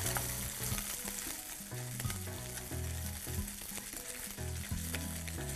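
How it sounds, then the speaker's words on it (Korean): Ingredients for simple yubu chobap stir-fry in hot oil over high heat, a loud close sizzle with repeated scraping and tossing strokes in the pan, no voices. "자, 이렇게 센 불에서 살짝만 볶아줄게요."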